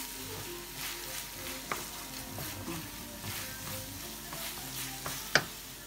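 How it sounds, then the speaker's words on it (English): Shepherd's pie filling with tomato puree sizzling in a pan as it is stirred, a steady close crackle with a few sharp taps of the spoon against the pan, no talking. "then I stir"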